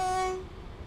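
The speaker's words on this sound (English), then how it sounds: "There's a passing express train." Rail noise from an express train passing a station platform at Millcastle fills the short clip, with a brief steady horn-like tone at the start that fades into a low rumble.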